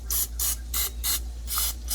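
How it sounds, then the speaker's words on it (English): Olive oil spray hisses in six short, evenly spaced bursts as it coats floured chicken pieces ready for an air fryer, close and crisp, with no voices. "we're going to take our olive oil spray"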